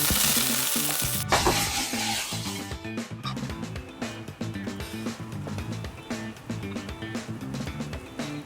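Olive oil sizzles in a skillet on high heat, a steady close frying hiss broken by stirring and scraping clatters, with no talk.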